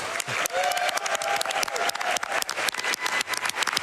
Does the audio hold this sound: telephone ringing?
no